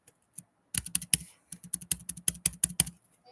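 A glitching computer keyboard spacebar is hit hard and repeatedly during a game, producing loud, close, irregular clacks in quick bursts with short gaps.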